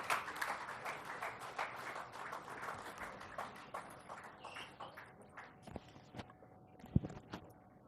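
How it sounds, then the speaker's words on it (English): An audience at a State Formation Day event claps to welcome the Governor. Dense applause starts strong and thins to a few scattered claps before fading out. "let's all welcome with a huge round of applause to share his insights and the importance of today"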